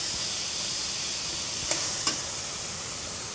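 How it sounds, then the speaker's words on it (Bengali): Chicken sizzles hard in a pan with Maggi masala, green chillies and soy sauce, a dense continuous fry broken by two quick utensil scrapes near the middle. "এই যে মুরগিটা সুন্দর করে ভেজে নিতেছি"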